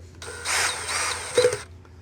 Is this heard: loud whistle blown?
no